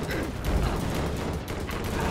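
Twin pistols in LEGO Marvel Super Heroes fire as a dense, unbroken volley of rapid shots, loud and continuous over a busy game background.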